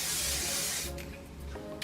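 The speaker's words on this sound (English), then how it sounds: "I'm just gonna spray my Kevin Murphy Session Spray, hairspray, just all over the bottom." Kevin Murphy Session Spray hairspray sprayed over hair gives a close, steady aerosol hiss for about a second, followed by quieter, scattered short puffs.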